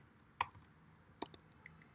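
Computer keyboard typing while a Python command is entered: a few isolated, quiet key clicks spaced apart over a low room hiss.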